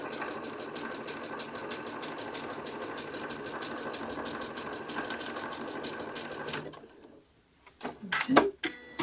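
A home sewing machine running a zigzag stitch, a steady fast mechanical chatter of needle strokes that stops abruptly near the end, followed by a few quiet handling knocks.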